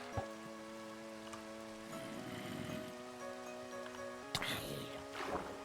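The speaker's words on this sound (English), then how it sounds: "Fishing during the rain is truly the best time you could go fishing." Rain falls in a Minecraft fishing scene, a soft patter beneath quiet game tones and background music, with a couple of short clicks and splashy sounds.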